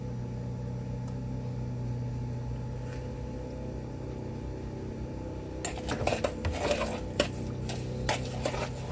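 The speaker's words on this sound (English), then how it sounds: "Next, we want to mix it together. The butter and the sugar." Butter and sugar being mixed together by hand in a bowl for banana bread, giving soft clinks and scraping knocks that turn busier and louder in the second half over a steady kitchen hum.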